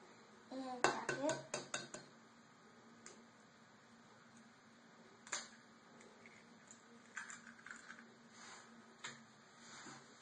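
An egg is cracked for peanut butter cookie dough: a cluster of sharp taps and a crack near the start, followed by scattered faint clinks of bowls and utensils in a quiet kitchen.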